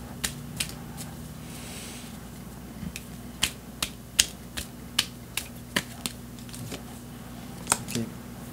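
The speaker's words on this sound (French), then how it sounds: "Je vais tirer une autre carte par rapport à vous deux maintenant." Tarot cards are drawn and handled at close range, giving a quick series of about a dozen crisp, sharp card snaps and flicks at irregular intervals over a quiet background.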